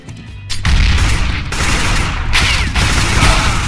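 Gunfire in the video game Counter-Strike: Global Offensive, a loud, sustained barrage of rapid shots and booms that fills the whole stretch with almost no pause, very close.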